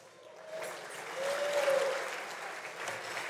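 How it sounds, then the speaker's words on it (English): Audience applause at a semiconductor industry awards dinner, a dense roar of clapping that swells and holds steady across the room, fairly loud and without speech over it. "I'm not so sure how I should take that clapping."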